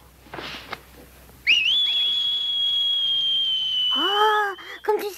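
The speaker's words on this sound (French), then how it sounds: "Oh, comme tu sais bien siffler." A single long, steady whistled note holds for a few seconds, preceded by a brief breathy sound, then ends with a short warbling flourish.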